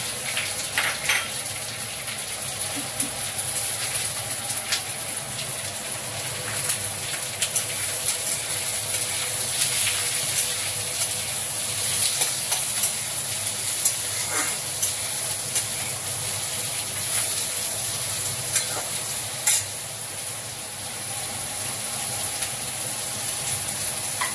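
Sliced onion sizzles in hot oil in a pan for bread biryani, a steady, loud crackling hiss with scattered pops and occasional stirring scrapes throughout.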